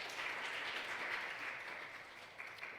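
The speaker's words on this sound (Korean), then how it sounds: "같이 박수 한번 쳐주시죠." A congregation at a university church Wednesday service claps together in soft, fairly distant applause that holds steady and tapers slightly, with no talk over it.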